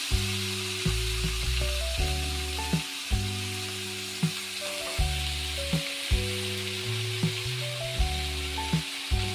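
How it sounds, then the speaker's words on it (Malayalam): Mustard seeds and green chilies sizzle in hot oil, a continuous hiss with scattered light pops running beneath louder background music. "കടുക് പൊട്ടി വരുമ്പോഴത്തേക്ക് പച്ചമുളകെല്ലാം ഇട്ട് കൊടുക്കാം."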